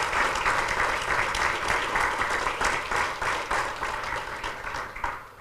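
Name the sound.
audience applause for Paymon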